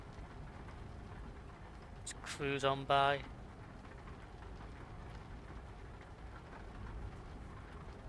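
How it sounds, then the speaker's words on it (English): Gentle rain in Euro Truck Simulator 2 falls as a soft, steady hiss throughout, with a voice briefly speaking over it partway through. "It's not hammering down, it's not like thunderstorming and hammering it down, but just a gentle rain."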